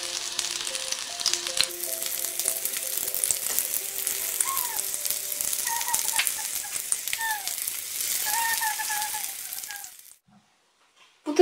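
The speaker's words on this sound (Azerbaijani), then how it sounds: "Və hər üzünü yaxşı-yaxşı qızardırıq." Egg-dipped lavash frying in a pan, a steady close sizzle running for about ten seconds with faint scraping, then it stops abruptly.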